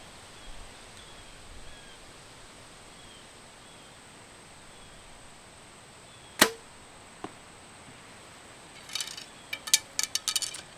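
A broadhead arrow loosed from a Mathews Lift X bow at a target 61 yards away outdoors in wind: a sharp, crisp snap of the shot, a fainter follow-up tick, then a cluster of quick clicks and rattles near the end over quiet breezy background.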